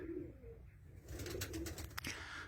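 Pigeons coo softly nearby in a pigeon loft after being fed, with a low repeated cooing, brief fluttery rustling and a sharp tick near the end.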